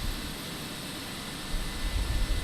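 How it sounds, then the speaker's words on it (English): Fenix Airbus A320 cabin and engine ambience in Microsoft Flight Simulator, a steady broadband jet roar with low rumble swelling slightly toward the end, continuous and alone. "The sounds in this airplane are amazing."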